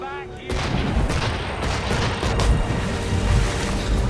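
Ship cannons in Assassin's Creed 3 open fire with a sudden heavy boom, followed by a few seconds of dense rumbling blasts layered over sea and battle noise, loud and close.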